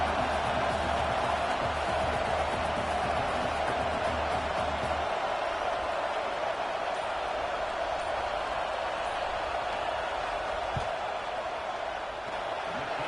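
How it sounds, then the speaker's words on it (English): Stadium crowd in a football video game roaring during a field goal attempt, a steady wash of distant noise under a low rumble that drops away partway through. "This crowd trying to do its part to get inside the kicker's head."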